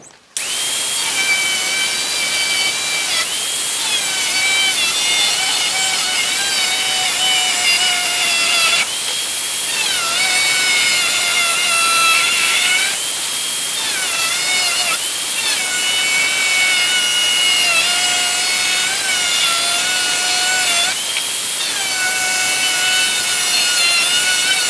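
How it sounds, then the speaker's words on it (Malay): A hand saw cuts through a plastic barrel being made into an aquaponics set, with continuous loud rasping strokes whose rhythm shifts in pitch every few seconds over about twenty-five seconds, with no talk. "Pemotongan pertama yang paling sukar, kemudian kita akan ikut saja untuk memotong."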